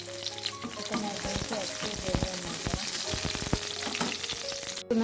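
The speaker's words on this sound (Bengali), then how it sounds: "তেলটা গরম হওয়ার পর এটাতে দিয়ে দিচ্ছি বড় কাঁচা এবং পাঁচটা কাঁচামরিচ" Five large green chilies fry in hot oil with a loud, close, continuous sizzle packed with sharp crackles and spitting pops throughout.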